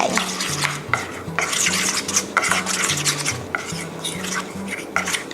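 Pink-coloured cake pop mixture is stirred steadily in a bowl, the utensil tapping and scraping the sides in a repeated rhythm, close and clear with no talking.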